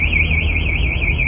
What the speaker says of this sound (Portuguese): Que é que tu tá enlouquecendo, alarme?